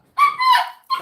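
A dog barks close by in two loud, sharp bursts, the first long and strained, the second short and clipped after a brief pause, with no voices over it.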